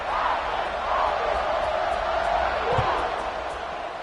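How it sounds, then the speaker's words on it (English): Crowd in a Kentucky vs Boise State college football stadium roaring and cheering, a dense, steady wash of noise with a commentator speaking over it. "this crowd is feeling themselves after that last drive"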